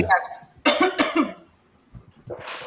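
A few sharp coughs burst out close by, mixed with voices talking, followed by a quieter pause and another rough cough at the end.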